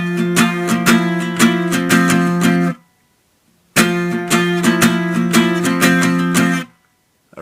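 Electric guitar playing a full song intro pattern twice, each pass a loud run of rhythmically picked chords about three seconds long, separated by a brief silence, with no talking.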